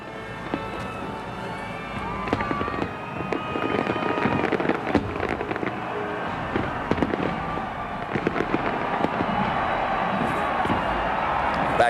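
Fireworks burst at Disneyland on New Year's Eve 1999, a dense run of loud cracks and booms over a roaring crowd, with voices mixed into the din.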